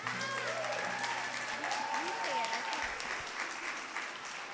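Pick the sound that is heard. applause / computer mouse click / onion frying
applause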